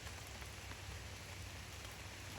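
Rain falls steadily on a wooded bike-camping trail, a soft, even hiss with scattered drops, constant and fairly faint throughout with no voices.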